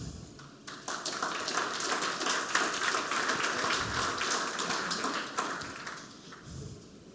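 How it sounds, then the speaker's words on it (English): An audience at a tech conference lecture on home intelligence breaks into sustained applause, a dense crackling wash of many hands that swells, holds steady and then thins out toward the end. "Big applause once again"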